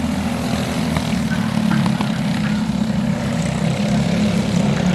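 Race cars roaring through the start of a heat on a paved oval, a dense continuous engine drone that swells slightly as the field gets going, loud and steady throughout.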